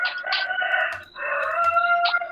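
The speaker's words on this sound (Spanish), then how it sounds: "¿Un gallo?" A rooster crows twice in the Free Fire video game, two drawn-out, clear calls with a short gap between them, loud and alone.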